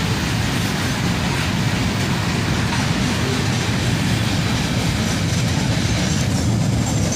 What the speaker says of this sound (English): Finally, the end of this freight train passes by.